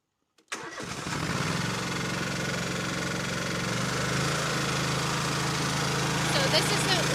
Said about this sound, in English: I'm gonna hop on to the mower. I'm gonna turn it on. It's gonna be super loud